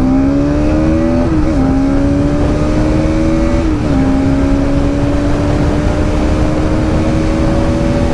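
A 200cc motorcycle accelerates hard toward 100, its engine note climbing loud and close with two clear gear shifts, then holding a high, steady drone.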